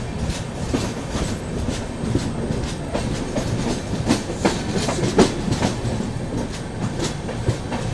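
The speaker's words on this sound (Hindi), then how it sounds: "ट्रेन अपनी पहुँच रही है कसारा रेलवे स्टेशन पर।" The 12141 Patliputra Superfast Express rolls into Kasara railway station at night, a loud close rumble with rhythmic clickety-clack of wheels over rail joints, steady throughout with no talk.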